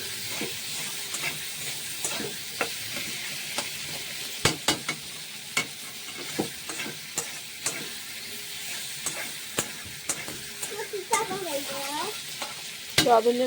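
Boiled potatoes are stir-fried into a fried tomato masala, a steady sizzle and hiss punctuated by repeated spatula scrapes and knocks against the pan, close, with a brief squeaky tone near the end and no speech.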